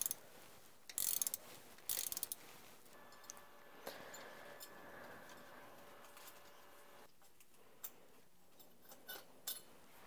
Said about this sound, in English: I'm using a 13 millimeter wrench.